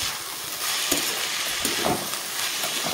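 A wok of vegetables frying with chopped tomato and peas keeps up a steady sizzle and hiss throughout, with a few soft stirring scrapes rising above the frying noise.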